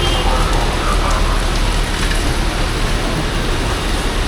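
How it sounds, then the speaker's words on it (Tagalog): Heavy rain pours steadily near an airport terminal, a dense, continuous hiss with drumming on surfaces that stays loud and unbroken throughout. "Ang lakas ng ulan."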